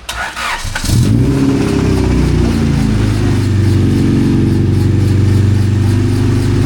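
A car engine fitted with new Limitless headers and a half exhaust starts and then revs loudly and close, a deep throaty drone that rises and settles into a sustained rumble.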